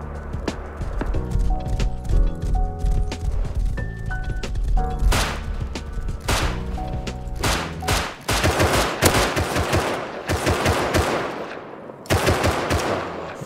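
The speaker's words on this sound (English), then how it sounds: "I heard some gunfire while out" Gunfire in the survival video game Rust: rapid automatic bursts and single sharp shots crackle loudly and repeatedly, broken by short pauses, with no voices.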